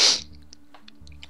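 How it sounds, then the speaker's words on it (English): One quick sneeze from a person at close range, a sharp loud burst at the start that fades into a quiet background hum. "the minute I press record, it starts sneezing"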